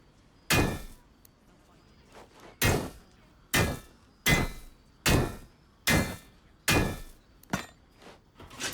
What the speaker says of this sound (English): Dang, 7 hits with a hammer and it's crafted.